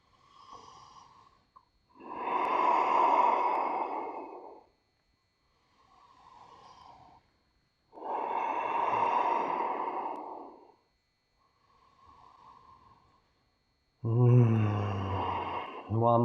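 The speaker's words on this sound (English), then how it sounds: "Breathing deeply, 5 long ujjayi breaths." Deep ujjayi yoga breaths, slow and audible with a hissing, ocean-like throat sound, each long inhale and exhale lasting a few seconds, close to the listener with gentle voice guidance coming in at the end.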